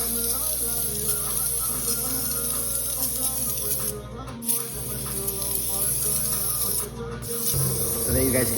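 An air gun spraying paint for a butterfly design gives a loud continuous hiss that stops briefly twice, with short quiet gaps between bursts and no talk.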